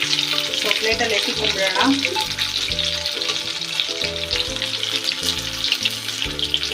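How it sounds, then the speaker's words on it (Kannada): Pieces of KFC-style chicken frying in hot oil at home, a steady sizzle running underneath while a person talks over it. "ನೋಡಿ ಚೆನ್ನಾಗಿ ಫ್ರೈ ಆಗಿದೆ"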